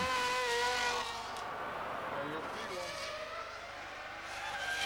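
A Ferrari Formula 1 car in the racing game F1 2000 gives a high, whining engine note that rises and falls through gear changes, playing under a commentator's voice.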